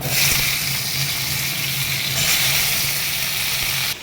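Potato and papaya pieces go into hot oil tempered with radhuni, cumin and bay leaf, giving a loud, continuous watery sizzle and hiss that fades slightly at the end.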